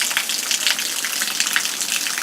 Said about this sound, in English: A little waterfall coming off the roof.